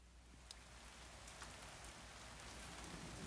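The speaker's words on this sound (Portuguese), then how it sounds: "E era tanta chuva que parecia que o mundo todo era feito de água." Heavy rain pours steadily onto a surface, a dense, even wash of close raindrops with a few sharper drips standing out and no voices.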